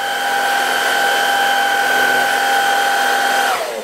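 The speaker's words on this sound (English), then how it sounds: "We can click it out, so I'm just going to show you that going." A Greenote cordless stick vacuum cleaner runs with a steady, loud motor whine and bright tonal hum, close by, then spins down as it is switched off near the end.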